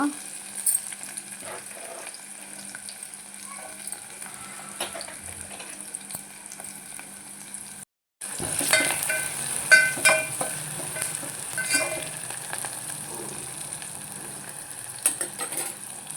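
Onions and curry leaves frying in a pan for a raw banana and lentil curry, a steady sizzle with scraping stir strokes, briefly cut off near the middle and then louder and busier.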